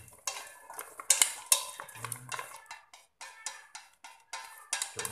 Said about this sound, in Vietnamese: Trộn dừa như thế trước